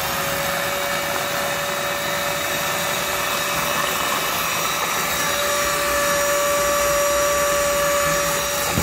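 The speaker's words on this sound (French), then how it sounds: "Je vais commencer à aspirer l'eau." A Parkside cordless wet vacuum cleaner sucks up water from a bucket, a loud, steady whining roar that holds level throughout with a faint gurgle beneath it, no one speaking.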